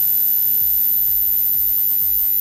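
A plugged-in ozone generator for air disinfection runs with a steady, loud broadband hiss and a low pulsing hum beneath, close up and continuous throughout.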